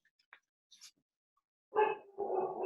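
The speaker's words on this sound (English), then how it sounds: "My dog has just started to bark" Pet dog at home gives a couple of faint, short barks, distant and muffled, following a few tiny quiet sounds.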